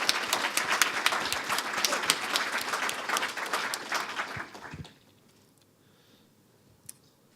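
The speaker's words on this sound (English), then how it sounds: "a big clap for the keynoters for coming on and doing that" Lively applause from a conference audience for the keynote speakers, a loud, dense patter of many hands for about five seconds that stops abruptly, leaving quiet room tone and one late clap.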